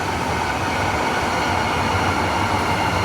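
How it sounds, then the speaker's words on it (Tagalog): An MRT train at GMA Kamuning station in Quezon City rumbles past in a steady, loud, continuous roar of rail noise with no voices. "ito lang, ang GMA Camuning MRT train station"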